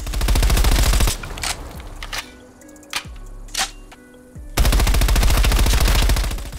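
Rapid automatic bursts of MP5 submachine gun fire in Call of Duty, a loud rattling stream of shots, then a pause filled with reload clicks and a few single shots, then another sustained burst.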